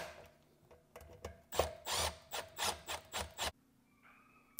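A hand tool runs down the fasteners on a Wave brake rotor of a DRZ400SM, snugging each one in a string of loud rhythmic bursts of rasping, ratcheting clicks close by, ending abruptly in quiet.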